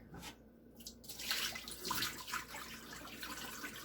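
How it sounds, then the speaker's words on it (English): Rice for chicken soup is rinsed under running cold tap water, a soft continuous splashing and swishing near at hand, rising and falling as the grains are stirred, with no voices. "is washing it thoroughly in cold water"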